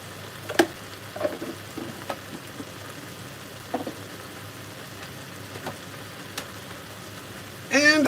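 Sweet and sour pork frying in a pan with sugar added, a quiet sizzle under scattered clinks and scrapes of stirring, with a short burst of louder noise at the end.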